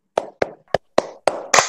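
A classroom of children claps together in a 'tepuk hebat' routine, with six sharp, evenly spaced claps that speed up slightly, the last ones fuller and louder.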